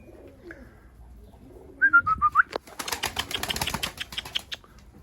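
A strong pigeon gives a brief coo, then its wings beat in a rapid, close flurry of flaps lasting a couple of seconds before fading, with no talk.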